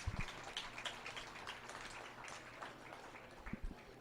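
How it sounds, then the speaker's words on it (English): Faint, distant crowd applause at a beef cattle and feeder calf judging show at the 2022 Dodge County Fair. A scattered, crackling patter of clapping continues steadily, with a few closer claps at the start and end. "big round of applause"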